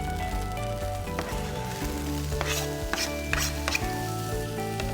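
Onions and peppers hit a hot pan for Thai cashew chicken and sizzle steadily, with a soft crackling hiss and a few brief clatters and stirring knocks as the vegetables are moved around.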